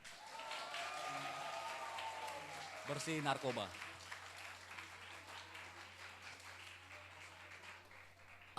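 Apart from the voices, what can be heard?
audience applause at anti-drug workshop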